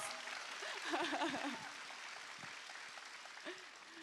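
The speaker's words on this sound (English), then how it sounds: "give them a round of applause" A round of applause for three guests who came on stage at a Life Transforming interview event, soft, somewhat distant clapping that swells early and then thins out, with some talk mixed in.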